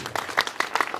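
A crowd at a political rally breaks into a short burst of applause, with scattered claps rising and falling for about a second.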